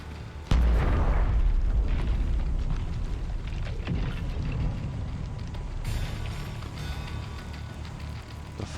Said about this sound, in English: That was a big explosion, whatever it was.